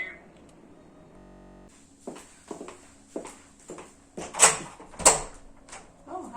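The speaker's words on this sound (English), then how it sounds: "I'll open the door for you." A front door at home is unlatched and opened, followed by a series of knocks and footsteps at an uneven rhythm, with a couple of sharper clacks.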